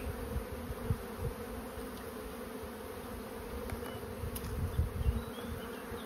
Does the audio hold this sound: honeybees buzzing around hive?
yes